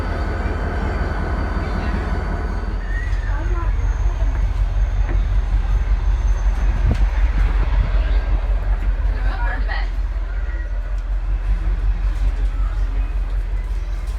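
A train at the North Carolina Transportation Museum rumbles steadily nearby with low mechanical drone and occasional faint squeals, continuous throughout.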